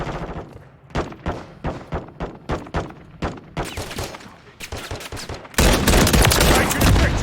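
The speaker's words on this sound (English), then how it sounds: "Taking effective fire." Gunfire during an MW3 team deathmatch on the Terminal map: a rapid series of loud shots in bursts, building to a sustained dense volley at the end.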